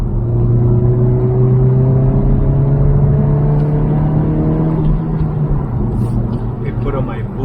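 A 2022 Honda Civic Si drives under steady load from inside the cabin, its engine note rising gradually as boost builds, a continuous loud drone beneath someone talking throughout.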